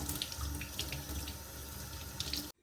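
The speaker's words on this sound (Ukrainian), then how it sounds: "От моєму моркву." Tap water gushing steadily into a sink while slightly soft carrots are washed, a continuous close splashing that cuts off abruptly at the end.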